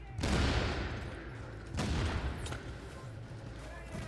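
Enemy grenadiers firing grenade launchers in The Division 2: two heavy blasts about 1.5 seconds apart, each with a rumbling decay, and a sharper, fainter crack shortly after the second.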